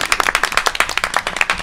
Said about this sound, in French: Je vous demande d'applaudir Lucie.